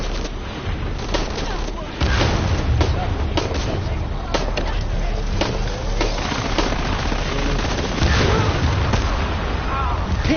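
Gunfire in the Shadow of the Tomb Raider video game, with dense, loud bursts of shots and booms that continue nearly the whole time, a voice talking underneath.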